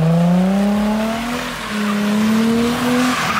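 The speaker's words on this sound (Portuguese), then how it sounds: "sai acelerando com o pé embaixo, porque se você tirar o pé, o carro vai sair um pouco" During a drift lesson, a car accelerates hard and drifts around a cone. The engine drones loud and close while the tires squeal in a long rising skid.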